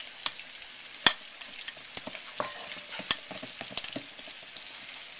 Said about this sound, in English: And we'll stir that in